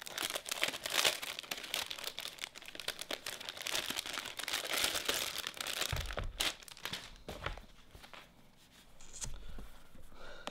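A thin plastic sleeve holding a micro USB to USB charging cable crinkles and rustles up close in quick irregular bursts, then quieter handling follows.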